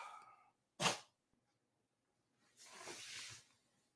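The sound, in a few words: kitten sneezing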